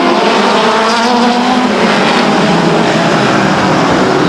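A pack of midget race cars roars away at the start of a 40-lap race at Stockton 99 Speedway, a loud, continuous wall of engine noise that swells steadily with no gaps.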